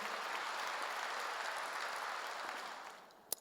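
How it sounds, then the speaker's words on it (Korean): A Korean church congregation applauds, a soft, even wash of many hands clapping that fades toward the end and ends with one sharp knock. "박수 주세요."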